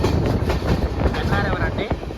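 The Pinakini Express crosses the Penna river bridge near Padugupadu station, heard from onboard as a loud, continuous rumbling roar of wheels and carriages with faint rhythmic clatter.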